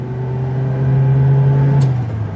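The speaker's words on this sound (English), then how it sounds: "That engine is so Fiat, just willing to rev." A small Fiat-based Zastava 750 car engine hums and revs steadily from inside the cabin during a test drive, a short buzzing drone that rises slightly before easing off.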